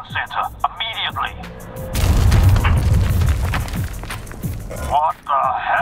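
Explosive charges detonating inside a building in a video game, a deep rumbling boom that rolls on for several seconds, with game characters talking before and after it.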